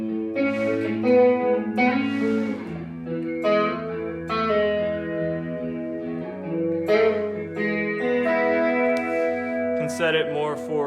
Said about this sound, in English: Right now it's kind of set more for like a chorus.